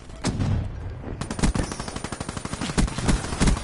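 The weevil gun firing in a shooter video game: loud, rapid bursts of sharp repeated shots in quick rhythmic succession, with short pauses between volleys.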